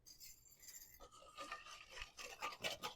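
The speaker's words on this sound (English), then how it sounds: "We're going to whisk this together" A spoon whisks a pepper-seasoned dressing for a Louisiana-style crab pasta salad in a bowl, giving a quiet, steady scraping and clinking that thickens into faster, brighter strokes toward the end, close and alone without talk.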